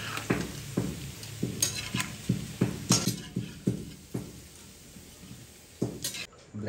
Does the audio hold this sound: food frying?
yes